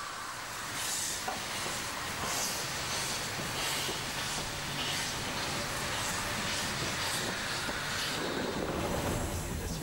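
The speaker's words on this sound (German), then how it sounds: "Ausfahrt in Wernigerode. Knapp 2 Stunden wird der Zug nun Richtung Gipfel unterwegs sein." A Brockenbahn train pulls out of Wernigerode station in the Harz, bound for the summit, giving a steady rumble and hiss of rolling stock with faint rhythmic clatter throughout, fairly close and continuous.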